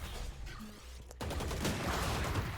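Gunfire in the tactical shooter Valorant during a college esports match, with a headshot kill: dense rattling shots fill the clip and grow louder and busier in the second half.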